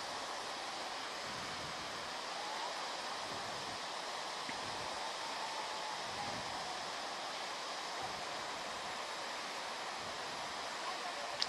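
Kanchenjunga Falls in Sikkim pours steadily in a broad, even roar of rushing water, with no break or change in level.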